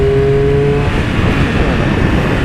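A Triumph Speed Triple motorcycle engine roars under hard acceleration, a dense loud continuous drone with rushing wind noise and a brief steady whine at the start, heard close from the rider's position.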